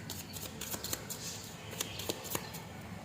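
Tarot cards shuffled by hand, quick soft riffles and papery flicks in short bursts, close but fairly quiet against a faint steady hiss, with no talking.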